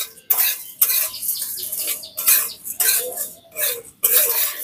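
Whole cumin, coriander, black cumin and fennel seeds dry-roasting with salt in a pan for homemade garam masala, with a series of close scraping, rattling stir strokes separated by brief pauses.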